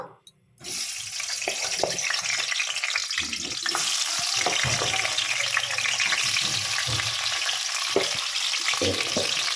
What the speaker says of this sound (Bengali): তেল গরম হয়ে গেছে আলুগুলো একটু ভেজে নেবো